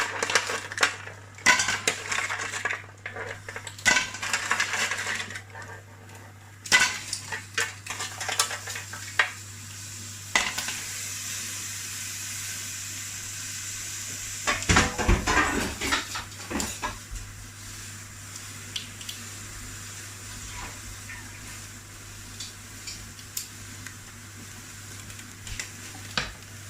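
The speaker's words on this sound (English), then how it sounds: "I've got a boiling hot pan there. Straight in with your mussels and your clams." Loud, steady sizzling of mussels and clams in a hot pan, shells clattering and scraping as they're stirred, no talking.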